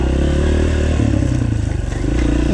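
A dirt bike climbs over rocks on an enduro trail, its engine loud and close with a steady throb, pulsing revs and clattering chassis knocks throughout.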